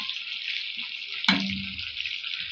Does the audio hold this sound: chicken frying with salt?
yes